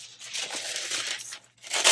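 Rice paper is torn up close, a dry, crisp ripping that runs for over a second, pauses briefly, then starts again louder.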